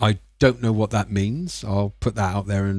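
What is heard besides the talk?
None of the usual background noises is heard.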